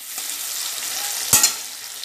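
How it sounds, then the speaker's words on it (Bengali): Tomato and onion fry in hot oil with a steady, close sizzle, broken near the end by one sharp scrape of a spatula stirring the pan. "এবার টমেটোটা পেঁয়াজের সঙ্গে একটু ভালো করে নাড়িয়ে চাড়িয়ে ভাজা ভাজা করে নেব"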